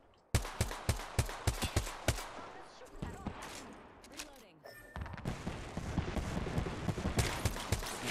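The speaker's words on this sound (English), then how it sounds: "I'm getting shot from the other squad." Rapid gunfire in the video game Apex Legends during a squad firefight, with bursts of sharp shots, a short lull in the middle, and then dense, continuous shooting.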